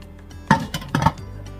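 A lid set onto a pot for steaming tilapia, two quick close clinks of metal and glass about half a second apart, then quiet.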